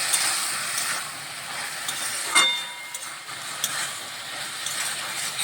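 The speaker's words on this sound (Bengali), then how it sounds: "একটু ভাজা ভাজা করে নিলেই হয়ে যাবে ছোলা শাক।" Chickpea greens frying and being stirred in a pan, a continuous soft sizzle with a clatter of utensil scrapes, heard alone without speech.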